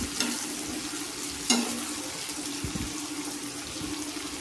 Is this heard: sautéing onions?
yes